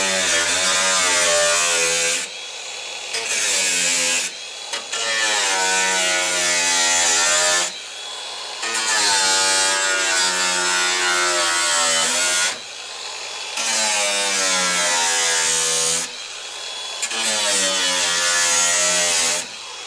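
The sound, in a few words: angle grinder cutting VW Crafter van rear door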